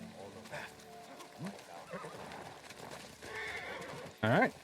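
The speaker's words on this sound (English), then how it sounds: "Horse!" A horse in Ghost of Tsushima gives a loud, rising whinny near the end, after a stretch of clip-clopping hooves and low background ambience, with a voice speaking briefly earlier.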